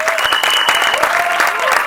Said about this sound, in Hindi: एक बार ताली बजाइए ट्रेलर के लिए आपकी।